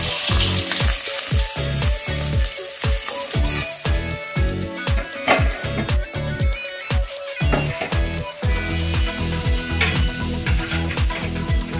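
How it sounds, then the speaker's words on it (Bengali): Close, continuous sizzle and spatter of tilapia pieces frying in oil for a Bengali fish curry, lasting throughout over a regular low rhythmic thump, with no voices. "এইভাবে সবকটা মাছ ভেজে নেবো"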